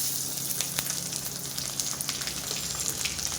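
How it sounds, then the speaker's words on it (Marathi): Garlic roasting in oil in a pan for chivda gives a continuous crackling sizzle with small popping bursts, close and steady with no voices. "आता लसण भाजून घेणार आहोत"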